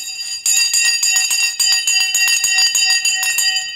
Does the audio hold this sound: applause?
no